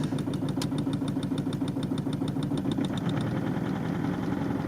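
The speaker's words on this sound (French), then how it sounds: "on va démarrer le moteur, donc tu vas voir qu'il tourne pas rond" A Mercedes engine idling roughly with clattering hydraulic lifters: a steady low rumble under a fast, regular ticking clatter that repeats throughout, close and continuous, with no voices.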